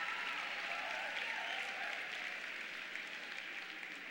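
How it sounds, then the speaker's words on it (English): Steady applause from an audience at a state high school speech competition finals, a dense continuous clapping that holds evenly throughout, with no talk over it. "Give yourselves a round of applause."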